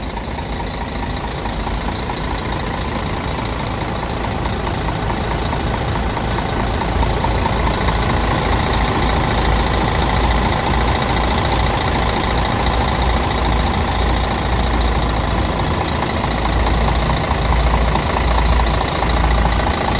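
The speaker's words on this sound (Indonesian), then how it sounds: "Nah, mumpung ada Mercy 2542 yang ini, ya kita dengerin suara mesinnya yuk." A Mercedes 2542 chassis bus's diesel engine idles steadily, a loud, close, continuous low rumble with a fine clattering texture and no talking.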